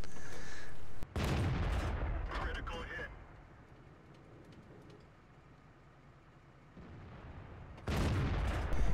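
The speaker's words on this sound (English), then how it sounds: "I'm going to go shoot at the IS-3 again because he's just stopped." Tank cannon in World of Tanks firing at an IS-3, a heavy boom opening the stretch and another blast near the end, with engine rumble and talking in between.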